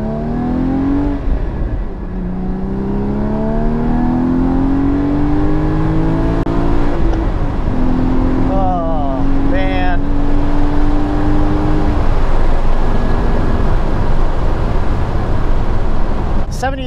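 Porsche GT4 engine revs loud and close from inside the car, climbing through the gears with rising pitch and a shift around the middle, a screaming wail under steady road roar.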